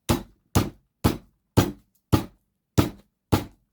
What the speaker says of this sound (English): I have got a hammer.